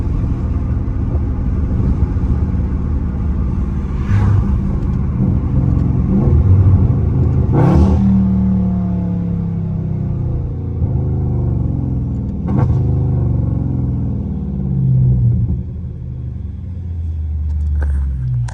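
Dodge Scat Pack V8 engine rumbling steadily while driving through traffic, with a few sharp throttle blips and surges rising over the continuous low drone, close and loud.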